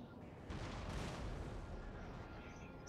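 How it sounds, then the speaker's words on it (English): Artillery cannons opening fire in a Napoleon Total War land battle, a low rumbling boom swelling into a sustained roar of distant gunfire, faint and blended with battlefield ambience. "he has opened fire with his artillery"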